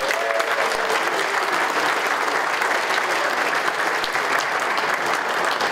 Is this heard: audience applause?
yes